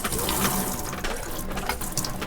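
Water gushes steadily from a foot-operated pump tap in a DIY-converted Kangoo/Berlingo van, a continuous splashing flow with no talk.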